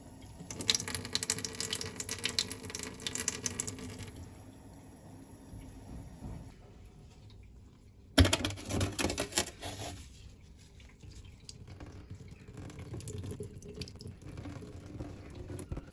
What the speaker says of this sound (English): I guess I can show you now how I would water this.